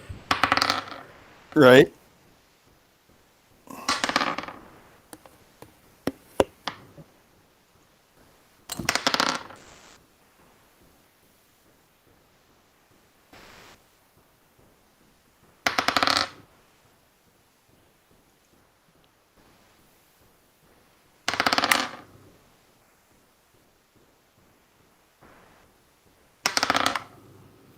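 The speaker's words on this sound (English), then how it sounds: "Rolling dice all night long." Dice clatter across a table in a tabletop role-playing game session, several short separate rolls spaced by quiet gaps, with a brief spoken word between them.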